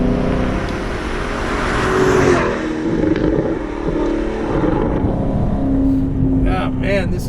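A 9-year-old Alfa Romeo 8C Competizione's engine and exhaust hum steadily nearby, with a revving swell partway through, heard under road and wind noise.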